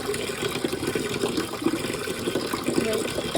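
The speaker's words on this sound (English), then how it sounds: "Here I'm putting the spring water in" Spring water pours into a cooking pot for elderberry syrup, a steady close splashing and gushing of liquid that runs continuously at moderate loudness.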